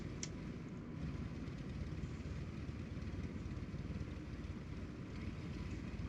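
Cessna 172 piston engine in Microsoft Flight Simulator 2020, running steadily at a low idle before shutdown, a continuous loud rumble with a faint brief click near the start.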